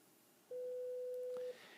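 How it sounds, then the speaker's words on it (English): A single steady electronic telephone tone sounds for about a second against a quiet background, then stops. "Jason's telephone is ringing"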